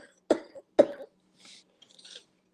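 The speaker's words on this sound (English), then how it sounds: "I can't stop coughing" Two sharp, close coughs in quick succession from a person chatting on a casual livestream, followed by quiet breathy throat sounds.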